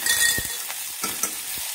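Crushed garlic and curry leaves crackle and sizzle in hot oil for a tempering, with a bright hiss broken by a few sharp pops and stirring clinks close by.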